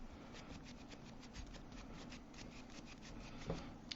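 A new brush sweeps glaze back and forth across ceramic bisque in a steady, soft scratchy rhythm of repeated strokes, faint and close up, with no talking.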